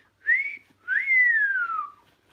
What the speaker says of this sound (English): do you want a wolf whistle?